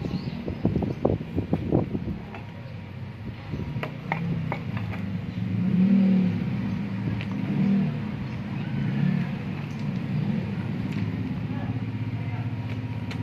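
A vehicle's exhaust muffler is revved during repair at a workshop, giving low, swelling engine rumbles that rise and fall in the middle. Voices chat briefly at the start, with background noise throughout.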